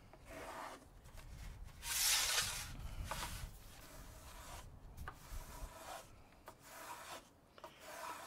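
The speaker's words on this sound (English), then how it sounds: "You can also fine tune the shape you want with your hand scraper." Hand scraper and small plane shaping the bevels on a wooden guitar back, a string of close rasping, rubbing strokes with uneven rhythm and one louder, brighter burst early on, no voices.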